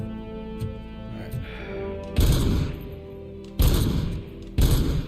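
Three loud bursts of gunfire shooting up drugs in a RoboCop video game, each sharp blast cutting in over a tonal music background, spaced a second or so apart.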